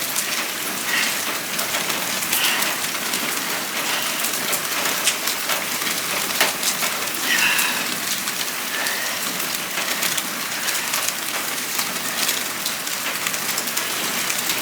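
Steady rain patters densely and pings off a metal bin, a continuous close shower with scattered sharper drops and no talking.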